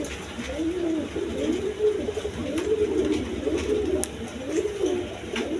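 A pair of down face pigeons cooing steadily in a rhythmic series of low, rolling coos, close by, with faint background noise and occasional clicks.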